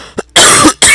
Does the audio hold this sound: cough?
yes